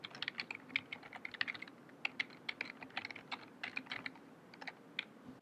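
Quick, light keystrokes on a computer keyboard, clicking in an irregular rhythm with short pauses, quiet and close.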